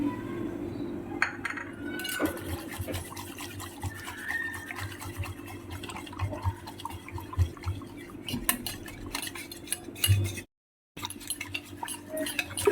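A spoon stirs and scrapes through thick khaman dhokla batter as flour is mixed in a bowl, with wet squelches and occasional clinks against the sides, continuing steadily.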